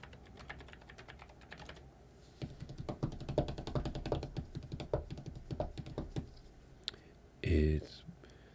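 Fast typing on a computer keyboard runs in bursts of close, crisp key clicks, with a brief pause and a short louder thump near the end.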